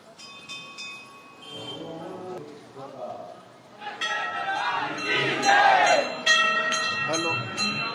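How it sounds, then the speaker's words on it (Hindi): A large crowd at a Navratri festival gathering roars and cheers, the noise swelling loud around the middle with scattered bell-like tones and a voice speaking over it. "आपके पीछे भीड़ देख पा रही हूँ, मैं उल्लास देख पा रही हूँ।"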